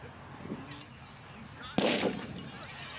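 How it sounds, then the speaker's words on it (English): A single sharp starting-cannon boom rings out from a distance at a youth cross-country race, preceded by faint murmuring, then fading into outdoor ambience. "And the cannon has fired."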